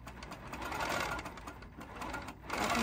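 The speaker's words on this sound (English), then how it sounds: "I'm working on my Handy Quilter Infinity, and I'm using my ruler base because I really need something to kind of keep that still, and I'm just going to stitch" A Handy Quilter Infinity longarm quilting machine stitches along a ruler base with a steady, fast mechanical whir and rapid needle chatter. The sound is close and moderate in level and briefly dips in the middle before resuming.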